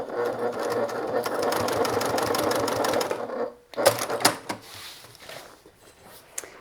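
A sewing machine bastes a quarter-inch seam on a designer-style bag, a steady close run of fast stitching for about three seconds, then stops amid fabric handling and clicks.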